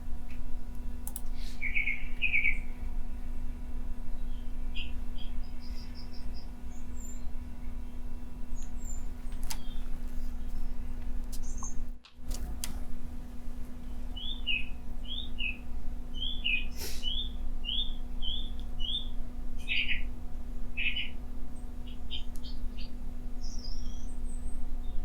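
A song thrush sings in short bursts of high, repeated chirpy phrases, fairly faint and set back from the mic, over a steady low hum and background noise.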